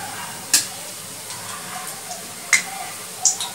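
Bottle gourd, carrot and semolina fritters sizzle softly in hot oil while a spatula turns them, with three sharp metallic clinks of utensil against the pan standing out over the low frying hiss.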